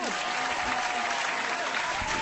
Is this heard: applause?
yes